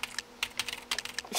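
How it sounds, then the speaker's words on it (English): Someone types fast on a computer keyboard, a close run of crisp, uneven clacks in quick succession with no talk. "he's just smacking his keyboard like nothing was"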